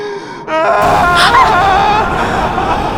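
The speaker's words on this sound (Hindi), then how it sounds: "ये तो किसी की रोने की आवाज है।" A person wailing and moaning in a frightening, eerie place in a thriller drama, with a long, loud, wavering cry that starts abruptly and rises and falls over a quieter background.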